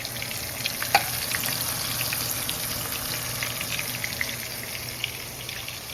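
Beef patties fry evenly in a pan, giving a soft, continuous sizzle like light rain, with scattered small pops and crackles above a steady hiss. Moderately quiet and close, with no talking.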